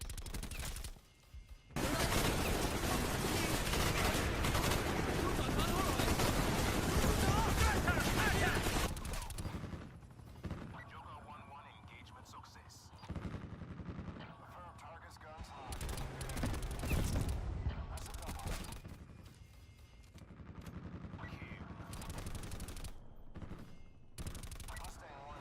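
Rapid gunfire in a shooter video game, a dense, loud burst of automatic fire for several seconds, then scattered shots and mechanical clatter with voices talking.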